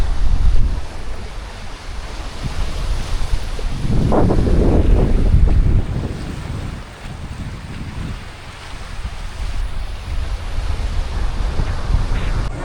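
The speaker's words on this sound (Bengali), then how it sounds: "এই তো তৃতীয়বার মতো বোট ছেড়ে দিল" A boat pulls away on the sea off Krabi, Thailand, with a rising swell of engine and water noise amid steady waves and strong wind buffeting, and no speech.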